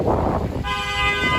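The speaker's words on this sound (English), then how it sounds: "I think by leaning on the horn it's going to solve all the traffic problems." Car horn honking in city traffic, a steady sustained toot held for most of a second amid street and wind noise.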